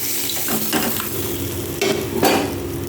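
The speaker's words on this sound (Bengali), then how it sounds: "তো তেলটা দিয়ে নিয়ে আমি মাছ রান্নাটা করে নেব।" Rui fish cooking in hot oil in a pan, a steady sizzle with a few scraping stirs and light clatters of a utensil against the pan.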